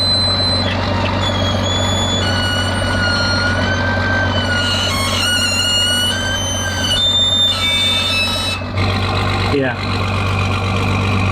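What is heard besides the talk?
tow truck engine wheel-lifting a broken Toyota Tacoma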